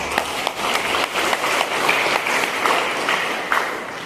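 A church congregation breaks into sustained applause, a full steady clatter of many hands with a few sharper claps standing out.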